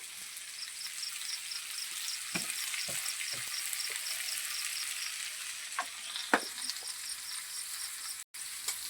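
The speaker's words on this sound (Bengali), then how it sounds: "দিয়ে একটু নাড়িয়ে নেব কষে নেব" Washed potatoes fry with salt as petai paratha filling is stirred in a village kitchen, a soft, steady sizzle with a few sharp scraping clicks from stirring and a faint high ringing tone.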